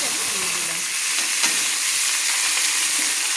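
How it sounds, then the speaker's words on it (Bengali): Chopped onions frying in hot oil in a pan, a steady, loud sizzle with bright hiss and occasional stirring scrapes, with no voices over it. "আমি ভালো করে আমি লাল লাল করে পেঁয়াজগুলো ভেজে নেব"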